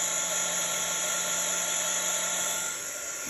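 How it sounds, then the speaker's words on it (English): A crafting embossing heat gun blows steadily, producing a constant, even high-pitched whirring hiss that holds nearly unchanged throughout and dips only slightly at the very end. "I'm using an embossing gun."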